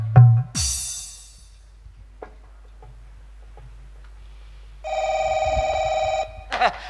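A telephone rings in a short electronic burst after some thumps and handling noises, followed by a brief final chirp.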